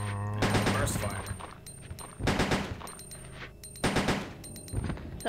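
Rapid bursts of gunfire from an upgraded burst-fire gun in Resident Evil 2, three quick clusters of sharp shots spaced about a second and a half apart, with game sounds between.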